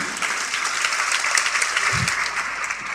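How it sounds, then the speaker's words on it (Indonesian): A church congregation at a sermon on finding the right life partner breaks into applause, a full, continuous burst of many hands clapping at close range, with a brief low thump near the middle. "Beri tepuk tangan."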